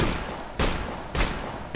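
Gunfire in Operation Flashpoint: Dragon Rising, three loud, sharp shots spaced roughly half a second apart, each standing alone with no talk.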